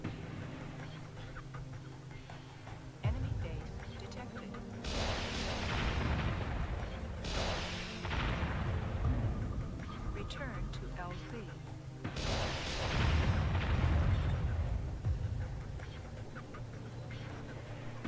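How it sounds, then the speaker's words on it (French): A base explodes under artillery fire in the strategy video game Warzone 2100: repeated heavy blasts and rumbling booms in bursts, loud and close, with someone talking over them. "la base a explosé"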